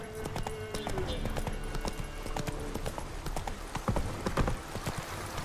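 Roach the horse gallops in The Witcher 3, a steady rapid clip-clop of hooves close by over a busy game soundscape, with a brief whinny and a voice speaking.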